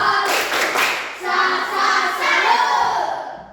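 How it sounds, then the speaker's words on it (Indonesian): A sixth-grade elementary school class claps a rhythmic 'tepuk salut' routine together, in several quick bursts with short pauses between them, with some children's voices mixed in. "Tepuk salut untuk kita semua dulu."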